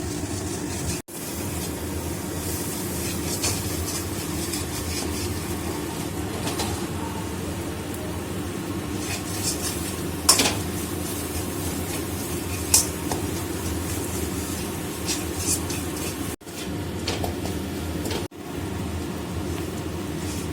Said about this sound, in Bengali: মশলাটা খুব ভালো করে কষাতে হবে, নাহলে মাংসের টেস্ট হবে না।